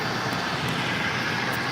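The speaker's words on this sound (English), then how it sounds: "This is American 2554 coming in from Miami, Florida on a 787-8 Dreamliner" An American Airlines Boeing 787-8 Dreamliner jet arriving from Miami and coming in to land at LAX, heard as a steady, loud, broadband engine roar with no break and no talking.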